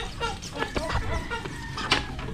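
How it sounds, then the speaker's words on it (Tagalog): A small chicken clucks in a few short bursts close by, with outdoor background noise throughout. "Pinakamaliit na manok."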